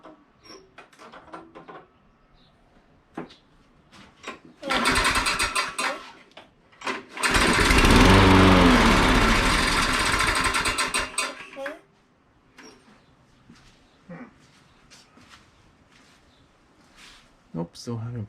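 Briggs and Stratton lawn mower engine pull-started twice after fuel is added to the throat, each pull giving a short loud burst of cranking that sputters briefly without catching, with a voice speaking between attempts.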